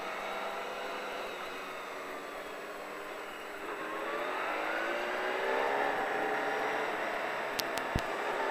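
A car pulls away on a racing circuit, its engine note rising steadily and growing louder as it accelerates, with a couple of sharp clicks near the end and no talk.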